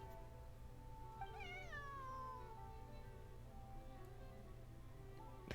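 A single drawn-out cat meow from the Genshin Impact video game rises and then slides downward, soft and fairly quiet over a low background hum.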